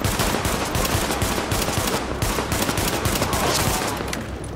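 Rapid pistol gunfire from The Division on Xbox One, a dense string of close, loud shots with no pauses over a noisy firefight backdrop.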